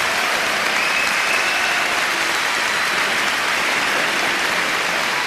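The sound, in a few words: audience applause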